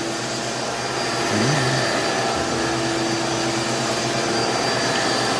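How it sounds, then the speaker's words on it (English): A vacuum cleaner draws a dust layer off old wood with a steady, loud, close whooshing roar that holds level throughout, no voices over it. "It just reveals it once you vacuum off that dust layer"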